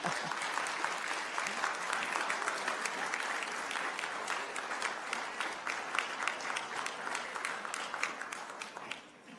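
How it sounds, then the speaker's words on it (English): Audience at a candidate forum for state senate and house of delegates seats breaks into sustained applause, individual claps crisp and close, steady throughout with no talk over it. "Now you can clap."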